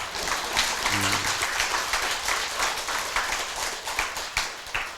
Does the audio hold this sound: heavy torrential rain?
no